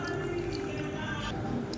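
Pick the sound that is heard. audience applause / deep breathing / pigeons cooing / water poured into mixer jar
water poured into mixer jar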